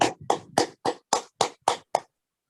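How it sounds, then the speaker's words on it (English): Eight quick, sharp hand claps ring out at an even, brisk pace from children clapping for themselves, each clap distinct and close, followed by sudden silence. "And clap for yourself."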